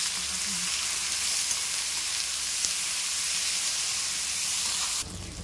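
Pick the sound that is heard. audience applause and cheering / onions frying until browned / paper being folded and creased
onions frying until browned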